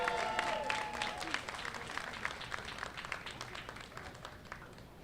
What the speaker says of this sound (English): Let's give the Borough President a round of applause.